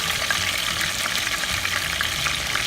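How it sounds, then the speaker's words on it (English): Chicken pieces frying in a pan for curry chicken, a loud, even, continuous sizzle with crackling pops close by and no voices. "I'm gonna fry these up."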